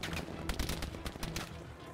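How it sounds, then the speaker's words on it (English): Rapid cannon fire in Battlefield V: a steady string of heavy, punchy shots repeating several times a second, loud and close within a dense wash of battlefield noise. "Oh, that cannon."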